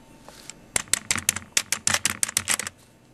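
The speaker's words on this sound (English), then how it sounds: "Here, I will type it out for you" Fast bursts of clattering keystrokes on a computer keyboard, close and crisp, in quick uneven runs lasting a few seconds, with no talking.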